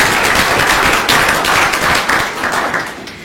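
An audience at an academic society gathering applauds a professor and president, a dense, steady wall of many hands clapping loudly and continuously, tapering slightly at the end.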